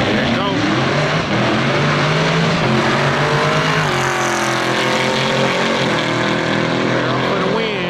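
A Chevrolet Camaro races an AWD Audi with the engine accelerating hard, giving a loud, sustained roar with rising pitch that shifts around the midpoint as it pulls away. Voices can be heard underneath.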